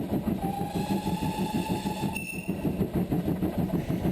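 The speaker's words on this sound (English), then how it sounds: "As we've heard, 5199 is a large prairie, a 262 designed by Charles Collett, chief engineer of the Great Western" GWR large prairie 2-6-2 steam locomotive 5199 working on the Llangollen Railway, heard from the cab as a steady, loud rhythmic chuffing and rumble with a faint whistle-like tone, continuous and without talk.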